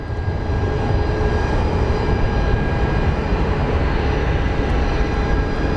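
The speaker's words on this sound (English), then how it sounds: "It's a heavy CRJ. It's taking almost all the runway again." A heavily loaded CRJ regional jet takes off at Phoenix Sky Harbor International Airport, producing a loud, continuous engine roar that holds steady throughout with no voices.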